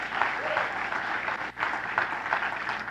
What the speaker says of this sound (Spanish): Denle ese aplauso más fuerte al Señor